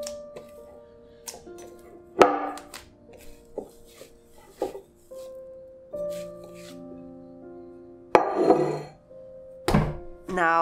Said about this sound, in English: Knead the butter into the dough.